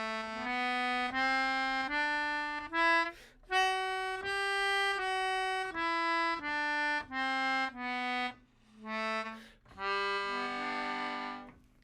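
Melodica playing a scale in a music theory lesson: a run of distinct reedy sustained notes stepping up and down, loud and close, ending on a brief chord, with no talking.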